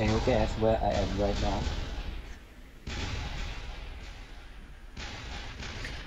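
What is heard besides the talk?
gunfire and explosions in a war zone, demo recording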